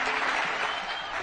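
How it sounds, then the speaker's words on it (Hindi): Applause at a foundation stone plaque unveiling for the Ganga Expressway, a steady, dense wash of clapping from a large crowd, loud and continuous for the whole short stretch. "जोरदार तालियों के साथ"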